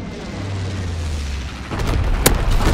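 Incendiary bombing in Call of Duty: WWII, a low rumbling wash that swells into a denser barrage of booming explosions with a sharp crack near the end, loud and continuous.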